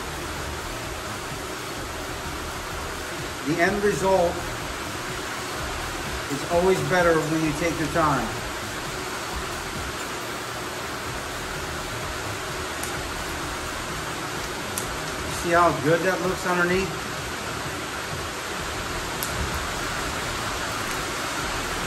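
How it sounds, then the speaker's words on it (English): Rain drums steadily on a metal barn roof, a constant broadband hiss running through the whole stretch while someone talks over it in short bursts. "My wife loves the sound of the rain on the metal roof."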